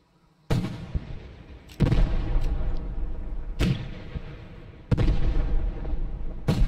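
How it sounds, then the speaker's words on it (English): Artillery rounds strike in a battle game, several deep, booming explosions arriving one after another with rumbling tails between them, loud and without speech. "artillery strike, 4 rounds, Wilhelm, 100 meter spacing"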